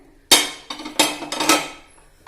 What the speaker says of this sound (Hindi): कुकर के ढक्कन की सीटी और रिंग दोनों चीज हम निकाल देते हैं।